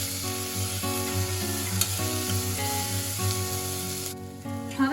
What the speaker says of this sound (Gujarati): હવે આપણે 2 થી 3 મિનિટ સુધી વટાણાને આ રીતે સાંતળી લઈશું